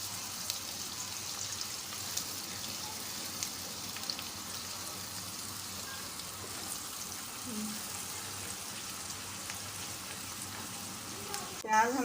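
Onions frying in a pan for white chicken korma, a steady soft sizzle with faint crackles that runs unbroken throughout, then a brief clatter near the end.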